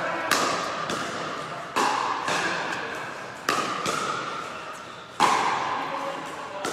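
Pickleball paddles striking the ball in a men's singles gold medal match, four sharp hollow pops spaced about two seconds apart in a steady rally, with commentary voices underneath.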